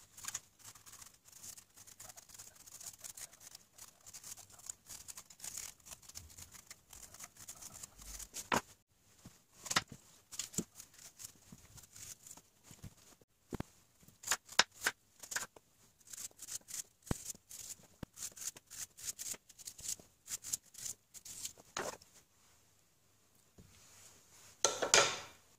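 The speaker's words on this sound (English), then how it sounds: "Now we clean the apple and we cut it in slices." An apple is sliced with a knife for a fry-pan apple cake, giving faint, scattered clicks and taps of the blade against a board, with irregular gaps and a louder burst of clatter at the end.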